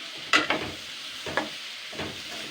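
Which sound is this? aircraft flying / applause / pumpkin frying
pumpkin frying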